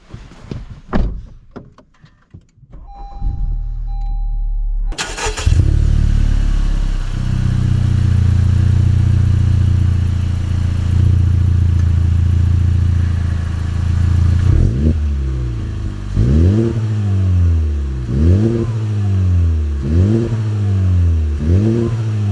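A Honda Civic Type R or Ford Focus RS has a door clunk shut, then the engine cranks and fires into a steady loud idle before revving repeatedly in rising and falling pulls up close, with no voices.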